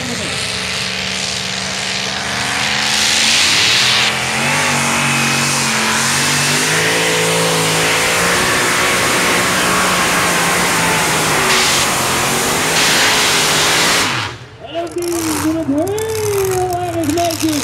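A two-wheel-drive pulling tractor's heavy engine roars and revs loudly for a long stretch at a tractor pulling event, pitch rising and falling, then cuts off and a voice speaks over lighter engine noise.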